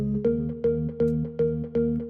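Bright Korg M1 house organ stabs repeat in a steady, bouncy rhythm, covering only the mid and upper range with no bass underneath, clear and alone.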